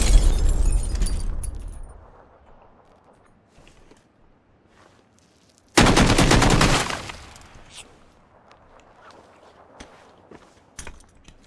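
Rapid bursts of gunfire in PUBG, one loud dense volley at the start and another around the middle, with quieter footsteps and scattered shots in between.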